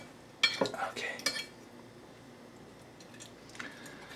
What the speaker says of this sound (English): We have to cut the egg.